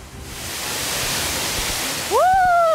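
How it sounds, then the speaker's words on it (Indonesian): Tumburanno waterfall on Wawonii Island, a loud, steady roar of falling water filling the whole scene, with a short rising two-tone whistle-like call cutting in near the end. "Ini dia air terjun tingkat paling atas"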